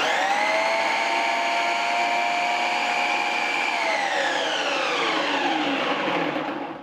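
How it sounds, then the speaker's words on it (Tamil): A Preethi Zodiac mixer-grinder slicing onion runs steadily on normal mode, a loud, even motor whine with no voices, its pitch sagging as the motor winds down near the end. "வச்சுட்டு இப்போ மிக்சி வந்து நம்ம ஆன் பண்ணலாம். பல்ஸ் மோட் வேண்டாம், நார்மல்லே வந்து ஆன் பண்ணலாம்."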